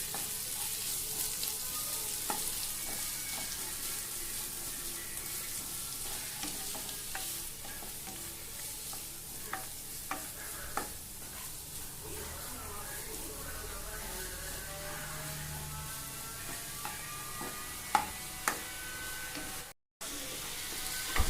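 Onions sauté in a pan for mushroom gravy, giving a steady broadband sizzle with occasional scraping stirs and clinks throughout, fairly close and continuous, with no talk.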